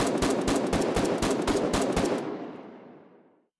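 Sampo auto rifle in Foxhole fired full auto from standing, a fast loud burst of about a dozen evenly spaced shots that stops abruptly and leaves a long echoing tail.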